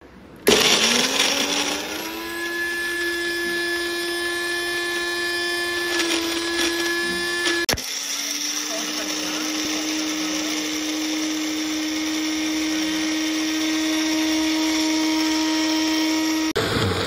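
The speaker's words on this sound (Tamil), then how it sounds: "இப்போ மிக்ஸி ஜாரில் போட்டு அரைச்சிடலாம்." A mixer grinder whirs loudly and steadily grinding masala, briefly stops, then restarts and grinds on at a high, even pitch for a long stretch.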